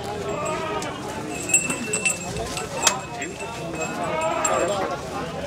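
Goats bleat at a crowded livestock market, several short cries rising above a busy murmur of people talking nearby, with a few sharp knocks mixed in.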